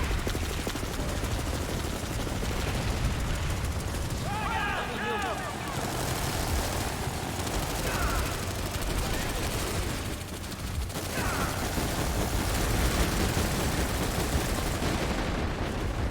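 Sustained gunfire and explosive bursts from a console war shooter played on PS4, dense and loud throughout, with brief whistling tones near the middle and a voice calling out over the combat.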